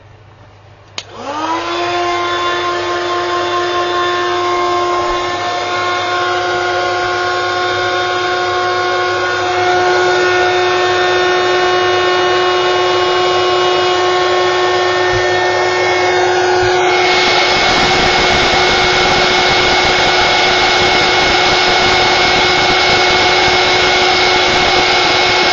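A heat embossing tool blasts hot air at a greeting card, roaring on with a sudden loud start, then a steady tonal whine and whoosh that grows slightly louder partway through and holds.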